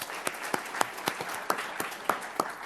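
Light applause from a modest audience at a school board meeting, a scattering of separate hand claps at an uneven pace, fairly soft and heard without any talking over it.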